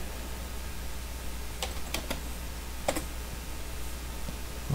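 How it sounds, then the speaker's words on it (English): Computer keyboard typing taps out a few sparse, quick keystrokes in two short bursts, faint and close over a steady low room hum. "let me finish typing this"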